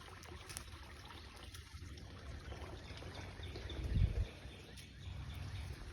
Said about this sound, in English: The water you hear running in the background is our creek.